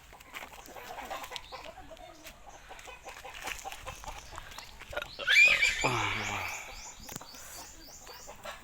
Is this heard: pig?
yes